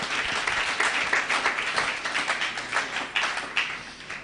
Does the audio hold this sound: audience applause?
yes